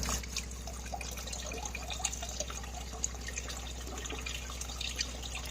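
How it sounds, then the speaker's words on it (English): Water flowing from a sink tap after a new water heater and pump install, a steady trickling and dripping stream with a low mechanical hum underneath, close and continuous with no talk. "Yeah, a little better water flow now."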